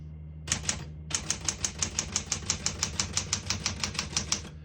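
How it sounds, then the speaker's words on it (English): Typing on a 1966 Smith-Corona Galaxie II portable typewriter, set to single spacing: one sharp keystroke, a short pause, then a steady, even run of about twenty close, crisp key strikes with a low mechanical hum underneath. "We're going to keep that on single and finish typing."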